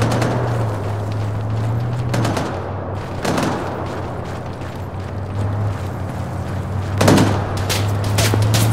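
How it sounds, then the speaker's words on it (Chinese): Sporadic gunfire echoes from far off in the ArmA military shooter game, a few scattered dull cracks and thumps spaced seconds apart over a constant low ambient drone. "北方有零星枪声"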